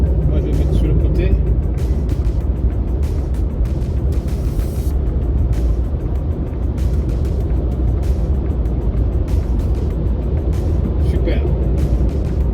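Xpeng G9 Performance electric SUV cruising and overtaking trucks on a motorway, with steady loud road and tyre roar and wind rush throughout, passing heavy vehicles adding low rumble, and someone talking over the noise.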